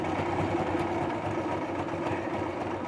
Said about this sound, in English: stitch it together with the zigzag all the way down.